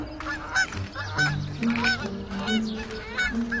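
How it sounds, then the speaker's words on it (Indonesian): Geese honk repeatedly in loud, overlapping calls from a flock grazing in a meadow, with no voices, filling a short stretch as part of a fairy-tale soundscape. "sang putri meninggalkan kudanya Falada, lalu menggembalakan angsa di padang rumput bersama Conrad."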